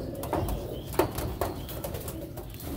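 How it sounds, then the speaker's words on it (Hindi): Several king-size double-body pigeons coo with soft, low repeated calls and occasional wing flaps, close by against a steady outdoor background. "ये जी आपको देख नज़र आ रहे होंगे जी, किंग साइज के हैं, डबल बॉडी के कबूतर हैं"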